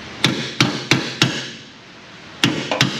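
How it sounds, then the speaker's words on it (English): Sharp metallic hammer strikes on a stuck car suspension bolt, four in a steady rhythm, then a pause and two more blows, loud and close with a ringing tail. "Hammer this guy out just a wee bit more."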